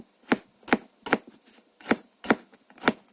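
Sharp knife chopping okra on a board, six crisp separate cuts at an uneven, unhurried pace, close and clear with quiet gaps between strokes.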